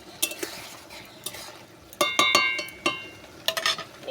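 Egg curry being stirred in a pan, a spoon scraping and clinking against the metal in irregular strokes over a soft sizzle, close and fairly loud with no talking.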